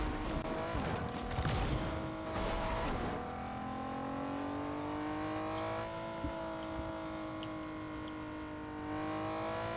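A car in Fortnite drives with a steady engine drone that rises and shifts in pitch as it speeds up, moderately loud and continuous, with brief rougher bursts early on.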